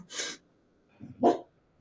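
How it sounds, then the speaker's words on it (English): A dog lets out a few short, close barks indoors, two or three separate bursts with brief pauses between them, fairly loud and alone without talk. "The dog was making it hard to focus."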